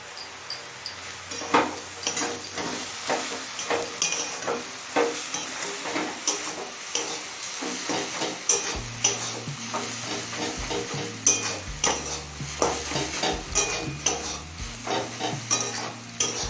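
Colocasia leaves stirred and frying in a pan, with a continuous sizzle under repeated scraping strokes of a spatula at a steady rhythm, close and fairly loud.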